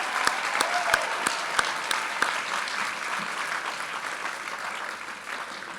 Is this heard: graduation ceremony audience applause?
yes